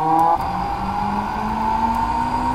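A car engine revs hard with a tonal whine that drops briefly at a gear change near the start, then climbs steadily again as the car accelerates. It is heard close from inside the car, without talking.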